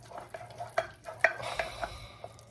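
Soft scraping and tapping of a utensil stirring a melting, glossy chocolate cupcake mixture in a pan, a series of light irregular knocks over a low sizzle, no voice.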